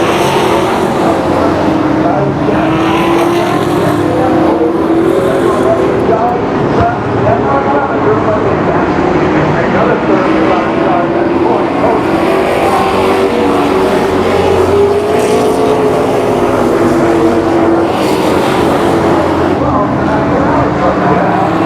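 Race cars lapping a circuit at a truck race event, a continuous roar of engines with rising and falling pitch, loud and sustained under crowd and track ambience throughout.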